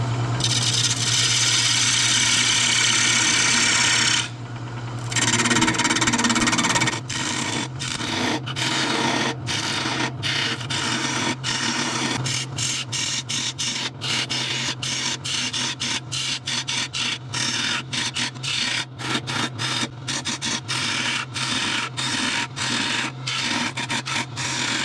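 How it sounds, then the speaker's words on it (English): Tool cutting into wood as a piece is hollowed out on a woodturning lathe: a continuous harsh scraping rasp, a brief pause, then rapid repeated rough scrapes and chatter close by. "let's just start hollowing this thing out"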